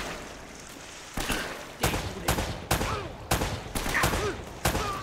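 Gunfire in the video game Uncharted: Drake's Fortune, a series of sharp, loud shots spaced about half a second to a second apart over a low ambient background, with no talking.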